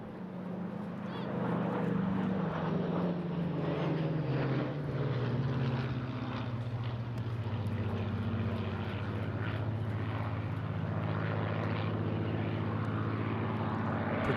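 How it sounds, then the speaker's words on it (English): A pair of Spitfire fighter aircraft fly past at the Eastbourne International Airshow, their propeller engines a steady droning roar that rises and shifts in pitch as they pass, sustained and moderately distant, with faint commentary underneath. "as John Gowdy leads the uniquely historic pair of Spitfires. Back in, coming in very shortly"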